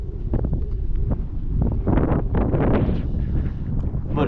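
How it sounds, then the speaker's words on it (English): Strong wind buffets the microphone in loud, continuous roaring gusts that swell and ease throughout, with no other clear sounds above it, outdoors while flying a Skynetic Havok Racer model plane. "But it's so windy"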